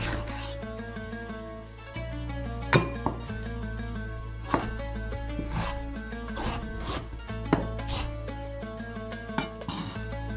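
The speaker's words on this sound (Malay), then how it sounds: "Bawang putih potong kasar, tomato 1 biji potong kasar" A knife roughly chops garlic and a tomato on a board, irregular knocks and scrapes sounding close over a steady low background hum, with no voices.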